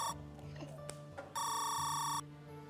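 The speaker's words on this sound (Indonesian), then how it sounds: "udah telepon masuk nih" A phone rings with an incoming call: a bright electronic ringtone, brief tones at first and then a loud sustained ring lasting about a second, in a quiet indoor room.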